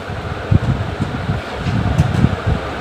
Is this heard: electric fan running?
yes